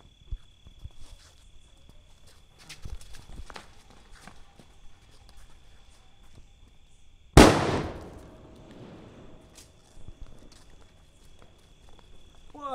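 A large Diwali firecracker, a big 'bullet' type, goes off in one sharp, loud blast about midway, its boom ringing out and decaying over a couple of seconds against quiet outdoor background with faint crickets and scattered small noises.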